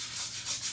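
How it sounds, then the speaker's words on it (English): Skateboard griptape being scrubbed clean, a short close abrasive rubbing with a soft back-and-forth rhythm, steady and unaccompanied by speech. "So just gonna keep scrubbing."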